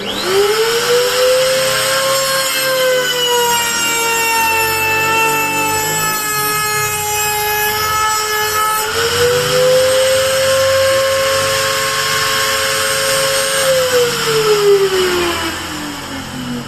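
A DCK KMP04-6 trimmer cuts wood with a loud, close, high whining motor whose pitch sags under load and recovers, running continuously with a short break in tone midway.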